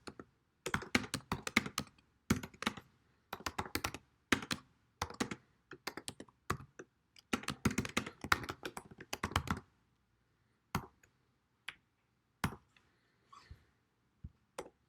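Bursts of typing clatter on a computer keyboard, quick key taps in uneven clusters that thin to scattered single presses toward the end, fairly quiet and close with no talking.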